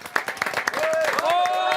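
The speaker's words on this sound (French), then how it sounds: "On les applaudit" A studio audience claps briefly for guests on a gaming quiz show, quick scattered applause with voices and whooping over it.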